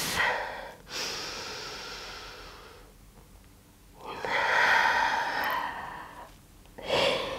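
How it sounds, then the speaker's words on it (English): Slow, deep breathing during a yoga stretch: long audible inhales and exhales alternate with quiet pauses, close and fairly soft, with no talking. "Taking one more deep breath."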